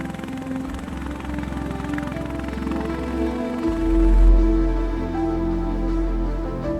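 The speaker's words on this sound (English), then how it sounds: "the helicopter hovers in the air while the Marines unhook the cargo" A military helicopter hovers in place for Marine sling loading, its steady rotor thump and turbine whine holding constant before a deeper, louder low-frequency surge swells midway and then settles into a sustained drone.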